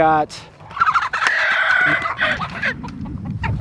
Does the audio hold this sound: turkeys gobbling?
yes